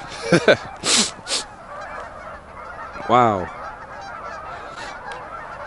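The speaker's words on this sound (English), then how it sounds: "There are thousands of geese here and other waterfowl" Geese honk loudly in a few close bursts among thousands of geese and other waterfowl, with a person briefly exclaiming over the flock's calls.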